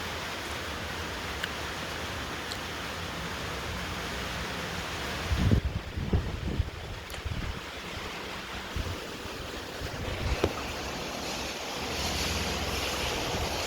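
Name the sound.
rain and wind outdoors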